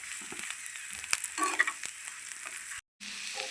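Ridge gourd curry stirred in a pan, with soft scraping and a few spatula knocks over a light background sizzle, close by, then a brief drop to silence before the stirring resumes.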